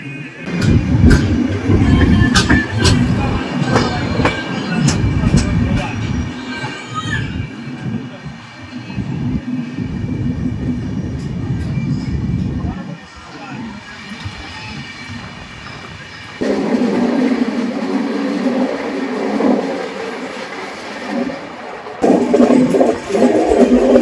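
A long-distance passenger train on the Coimbatore to Silchar route near Lumding, Assam, rumbling loudly with clattering wheels as it enters a tunnel, the sound shifting to a boomy enclosed roar partway through.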